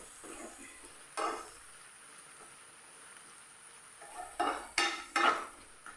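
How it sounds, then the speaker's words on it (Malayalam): Tomato being sautéed in a pan for chutney, with a low sizzle throughout and a few scraping stir strokes, one early and a cluster near the end; no one talks. "അപ്പം നല്ല പോലെ ഒന്ന് വഴറ്റി കൊടുക്കും"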